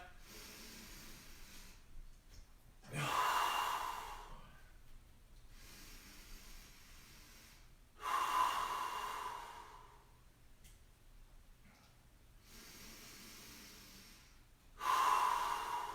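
Slow, deep breaths during a yoga workout, three long audible inhales or exhales spaced a few seconds apart, close and fairly loud, with quiet breathing between them.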